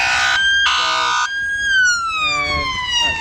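Emergency vehicles pull out of a station in Twickenham with blue lights on: short two-tone siren blasts, then a rising and falling wail, loud and near, with faint background noise.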